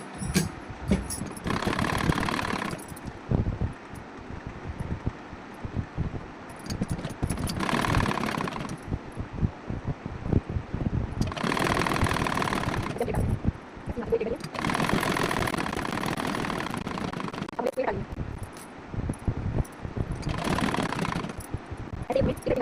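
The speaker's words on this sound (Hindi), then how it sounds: "अब हम सिलाई लगा लेंगे।" A sewing machine stitches the back panel of a choli for an umbrella suit, running in about five separate bursts of whirring with pauses between, with some talk around it.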